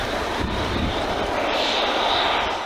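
A sulfur vent on a volcano at Yangmingshan in northern Taiwan roars steadily like a jet engine, a loud continuous broadband rush that holds without a break.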